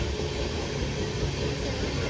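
Constant rumbling roar of a moving local passenger train, heard from a non-AC coach, steady and loud, with broad noise filling the space and no voices.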